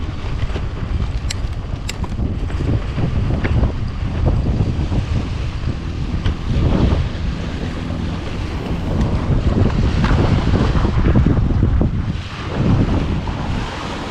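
Seaside waves wash onto a beach under strong, steady wind buffeting the microphone, a continuous loud roar of surf and gusts with no talking.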